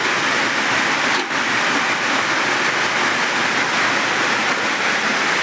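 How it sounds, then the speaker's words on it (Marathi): Heavy rain falling on a farm during the monsoon, a dense, loud, continuous hiss with no talk, steady throughout. "आणि पाऊस तर रात्री पण भरपूर पडलाय आणि सध्याला पण भरपूर पाऊस चालू आहे"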